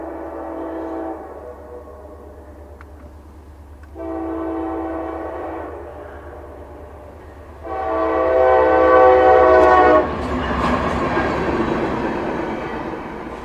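CSX C745 freight train sounding its horn in three long blasts, the last one loudest and nearest, followed by the heavy rumble and clatter of the train rolling past close by.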